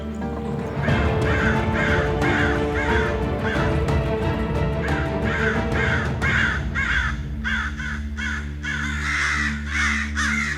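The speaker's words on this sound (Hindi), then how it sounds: "इतने कौवे और वो भी इस समय। हे राम, ये तो अपशगुन हो गया।" A flock of crows caws over and over in overlapping harsh bursts for the whole stretch, loud and close, above a steady musical drone that follows a wedding song in a drama scene.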